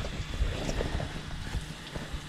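A boat's inboard/outboard engine idling while warming up during winterizing, with water running from the hose; a low, uneven rumble with rhythmic knocking pulses and a hiss of spraying water, fairly quiet and steady.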